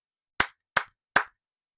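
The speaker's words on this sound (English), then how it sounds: "clap my hands 3 times over the pendulum" Hands clap three times over a pendulum for sound cleansing, three crisp, evenly spaced claps close by, with silence between them.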